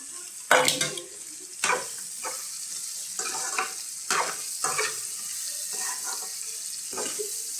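Drumstick pieces frying for a curry in a pan, a steady sizzle with intermittent stirring and clatter of a spoon against the pan, loud and close, no talk.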